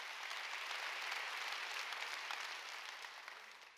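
A church congregation applauds together during a Sunday worship service, a dense, steady wash of many hands clapping that holds level and tapers slightly toward the end, with no talk over it.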